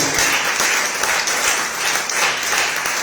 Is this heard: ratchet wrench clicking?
no